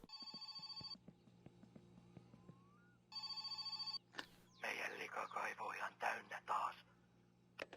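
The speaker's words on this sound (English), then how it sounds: "phone call." A telephone rings inside the video game My Summer Car, two bursts of a bright electronic ring separated by a gap, with low engine hum and ticking beneath, then a louder stretch of muffled, clattering activity.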